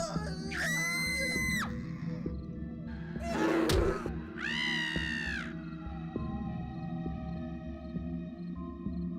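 Tiny villagers in Peter Molyneux's god video game let out shrill, wavering screams in several separate bursts, heard over a constant low game hum and rumble.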